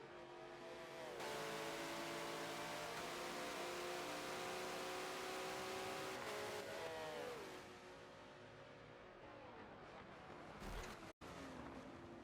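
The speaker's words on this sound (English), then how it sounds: "the BMW gets right into Sunshine and pushes him into the corner, pushes him wide" GT race cars, including a BMW, run flat out at Monza in an online sim racing league, engines droning and shifting pitch close up, easing off and revving again through a corner.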